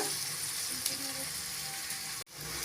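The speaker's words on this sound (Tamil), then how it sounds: "வெங்காயம் நல்லா வதங்கிடுச்சுங்க" Onions sauté in oil in a pan, a soft continuous sizzle heard close by at low volume, with a brief cut near the end before the frying sound resumes.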